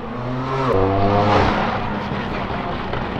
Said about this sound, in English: Bro, I wish my car was that loud.